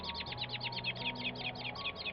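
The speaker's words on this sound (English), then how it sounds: "we have a blackbird here, very vocal blackbird today" A blackbird sings continuously at Cabranosa, Sagres, Portugal, in a rapid run of repeated high whistled notes, close and clear, with a faint low hum underneath.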